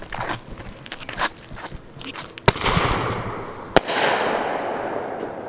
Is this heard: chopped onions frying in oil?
no